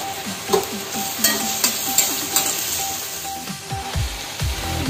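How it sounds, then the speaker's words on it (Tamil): Capsicum sautéing in a pan for roadside-style chilli parotta, with steady sizzling and a series of clinking, scraping strokes as the pieces are stirred, close and fairly loud with no talking. "நம்முடைய குடமிளகாய் பாருங்க, இப்போ கொஞ்சம் வந்து நல்லா வதங்கிடுச்சு"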